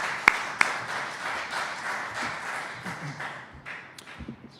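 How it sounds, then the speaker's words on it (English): Audience applause at a Hudson River Watershed Alliance welcome event: steady crowd clapping that opens with a couple of sharp claps and gradually thins and fades toward the end. "So about one more big round of applause for you, Emily."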